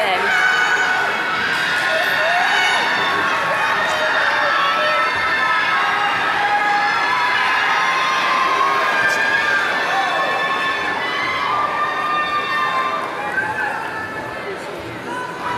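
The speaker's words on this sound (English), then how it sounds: "we ask that you please limit your applause so the next graduate's name may be heard" A large university commencement crowd applauds and cheers as a graduate's name is read, with a dense, steady wash of clapping, shouts and chatter, loud and continuous throughout.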